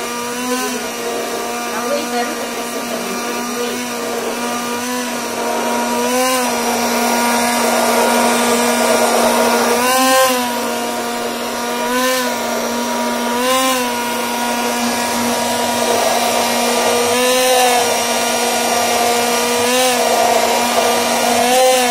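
A kitchen blender whips oil into homemade mayonnaise, running as a loud, steady whine whose pitch wobbles and surges every few seconds as the mixture thickens, with no pause from start to end.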